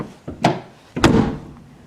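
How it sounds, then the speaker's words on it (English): A Volkswagen compact car door shuts twice with a solid, heavy thunk: a lighter first closure, then a louder, deeper slam that rings off briefly, close up with no talking. "Listen to how solid those doors are."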